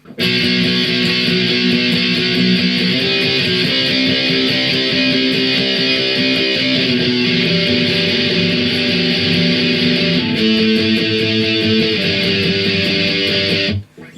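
Strummed guitar chords ring out continuously, a steady chorus progression with a few chord changes, played alone and fairly loud.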